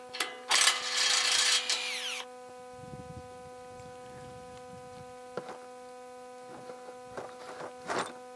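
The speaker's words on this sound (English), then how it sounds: "We'll take this last bolt out and should be able to strip it down to the head now" A power tool whirs loudly for under two seconds while taking out the last bolt of a DIY off-grid solar tracker, followed by faint clinks and taps over a steady electrical hum.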